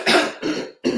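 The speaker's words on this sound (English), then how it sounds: "I'm going to clear my throat one more time." A person clears their throat three times in quick succession, close and raspy, with short gaps between the rough bursts.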